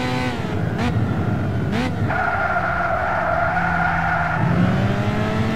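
A Renault Clio RS race car in Gran Turismo 6 revs loudly and steadily, with a sharp gear change partway through and tyre squeal while cornering, the engine note rising and holding close up.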